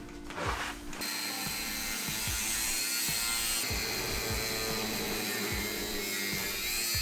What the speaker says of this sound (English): when using the grinder with the slitting disc, you just need to take your time